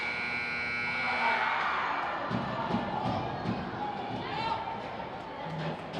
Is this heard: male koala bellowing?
no